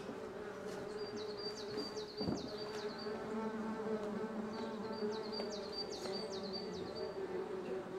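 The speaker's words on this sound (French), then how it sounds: "Au-dessous d'un nid de frelon, justement." Hornets buzz steadily around their nest, a dense continuous drone close by, with repeated high chirping calls and a brief knock partway through.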